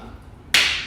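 One sharp, close clap cuts through quiet room tone, marking the start of filming, a single bright crack followed by a short decaying tail.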